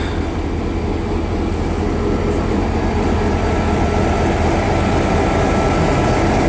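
Older Great Smoky Mountain Railway engine at Bryson City, North Carolina, giving off a loud, continuous low rumble with a steady mechanical drone throughout.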